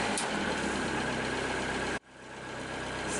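A boat engine idles with a steady, loud, continuous rumble and hum that briefly dips near the middle, then picks back up and holds.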